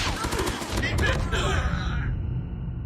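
Rapid automatic gunfire from a mobile first-person shooter, COD Mobile, crackles in a quick burst during the first second or so, then fades into a softer tail and game ambience as a player talks.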